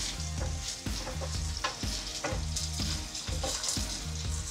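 Chicken curry with potatoes being stirred in a sticking pan, a close, loud sizzle broken by regular scraping spoon strokes, no talking over it.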